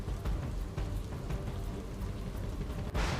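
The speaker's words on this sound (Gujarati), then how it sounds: "તો કચ્છના ભુજ શહેરમાં ધોધમાર વરસાદી માહોલ છવાયેલો છે।" Heavy rain pours steadily in Bhuj city during a downpour, a dense, continuous wash of falling water that holds loud throughout, with a brief burst of brighter splashing near the end.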